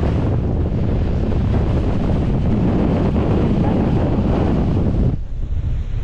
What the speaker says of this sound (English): Go away, wind